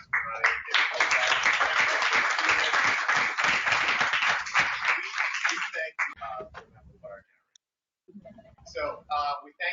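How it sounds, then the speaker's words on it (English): An audience at a leadership lab summer session applauds its panelists, dense sustained clapping for about six seconds before fading, followed by a brief pause and then people speaking. "let's give an applause for our panelists today"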